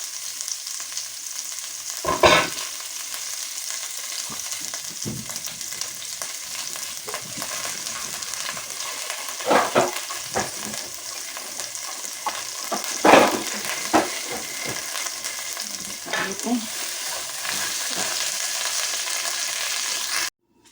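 Garlic frying and being stirred in a pan for goat masala chops, a steady close sizzle with intermittent scraping stir strokes, no voices.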